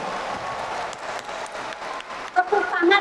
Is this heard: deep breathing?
no